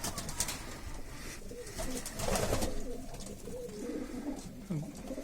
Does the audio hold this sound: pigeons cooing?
yes